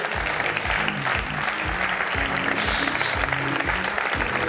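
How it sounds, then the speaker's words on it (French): Audience at an architecture trade show applauds exhibitors, steady close clapping that runs throughout under a loud low rhythmic music bed. "on peut les applaudir bien fort"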